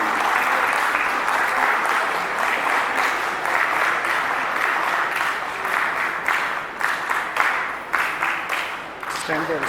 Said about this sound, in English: clapping should be continued.